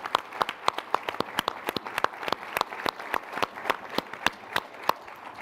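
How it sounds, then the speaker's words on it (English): An audience applauding Secretary Kerry at a climate summit, a lively round of clapping with many sharp individual claps standing out close by over a steady crowd patter. "I want to give him one more round of applause"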